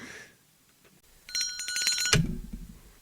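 An old-style telephone bell rings in a short rattling burst, fairly close, followed by a heavy clunk and low rumble.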